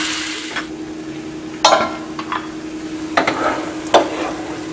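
Tomatoes for a French bean and potato sabzi cook in a pan with a low, steady sizzle, broken by a few sharp scrapes and clinks of a spoon stirring against the metal.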